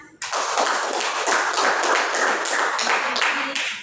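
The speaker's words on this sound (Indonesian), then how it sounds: "Sekali lagi tepuk tangan" Classmates in a school classroom clap for a student group that has just presented, a sudden burst of many hands starting almost at once, close and loud, holding steady for several seconds before easing slightly at the end.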